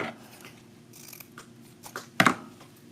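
Scissors make a single sharp snip through ribbon tails for a ruffle wreath, a close, brief cut near the end after a stretch of quiet rustling.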